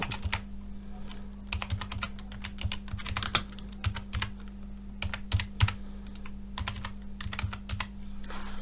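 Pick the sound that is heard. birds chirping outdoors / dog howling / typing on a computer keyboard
typing on a computer keyboard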